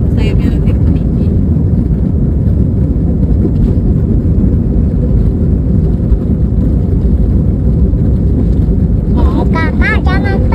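Steady, loud roar of an airplane cabin in flight, a broad engine and airflow rumble filling the whole clip, with a voice briefly heard near the end.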